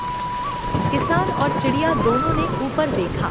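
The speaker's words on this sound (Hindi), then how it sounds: "देखते ही देखते काले काले बादलों ने आसमान को ढक लिया और जोरों की बारिश शुरू हो गई।" Heavy rain falls steadily over open farmland, a continuous wash of drops beneath a narrator's voice telling a story.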